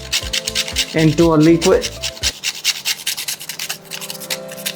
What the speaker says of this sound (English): So ideally, always fresh nutmeg. We need around 1/4 of a nutmeg. Just grate it